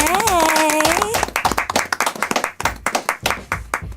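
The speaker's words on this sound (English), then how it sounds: "So let's clap it up for them." An audience claps for performing artists, with scattered hands gathering into steady clapping after a voice speaks over the opening second.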